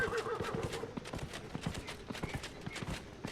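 Quick, steady hoof clip-clops from a trotting horse in Dragon Age: Inquisition, fairly close, with a busy mix of other game sounds behind.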